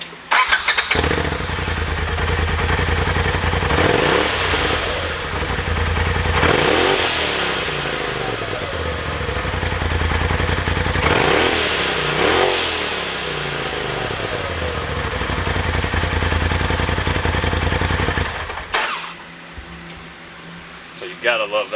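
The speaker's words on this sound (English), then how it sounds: "crank this thing up and give it a few revs" A Polaris RZR Pro XP with upgraded charge air tubes and a blow-off valve idles, then is revved several times in loud rising and falling bursts, each ending in a whooshing release before it settles and cuts off.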